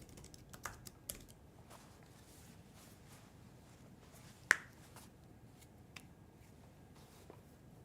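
Quiet, scattered keystrokes on a computer keyboard, a few light taps in short bursts and one sharper click partway through, over a soft background hiss.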